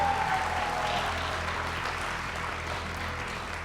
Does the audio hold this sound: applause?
yes